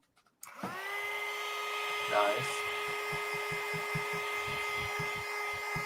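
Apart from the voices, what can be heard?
heat gun blowing hot air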